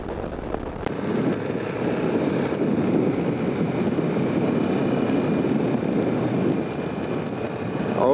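A BMW C 400X scooter engine drones steadily while riding, a broad low rumble mixed with wind buffeting the microphone, holding constant over the whole stretch.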